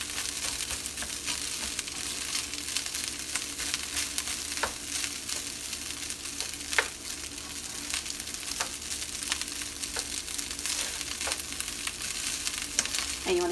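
Fried rice with eggs and soy sauce sizzles steadily in a hot pan, with regular clicks and scrapes from a utensil stirring it, close and continuous, no voices.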